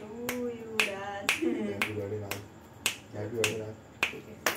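Repeated sharp hand claps at a home birthday celebration, roughly evenly spaced across the clip, mixed with voices singing and talking nearby.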